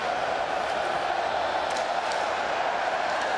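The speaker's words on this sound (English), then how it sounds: "And the crowd ramping this building up" An ice hockey arena crowd at the 2023 IIHF World Championship game between Germany and Finland cheers and does the wave, making a steady, distant roar that fills the building without a clear peak.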